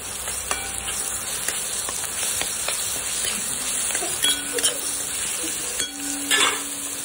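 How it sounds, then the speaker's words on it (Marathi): Ground spice paste tipped into onions frying in a pan for Maharashtrian zunka, sizzling steadily with scattered clinks and scrapes as it is stirred, close and alone. "आता हे मस्त वाटण केलेलं हे सगळं आपण याच्यात टाकून घेऊया।"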